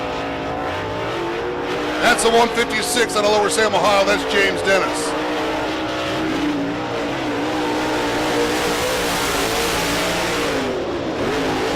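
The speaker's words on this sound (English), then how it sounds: "I hear cars rolling on the speedway." Race cars roll around Muskingum County Speedway in Ohio, a steady engine drone with bursts of revving, while an announcer talks over the track.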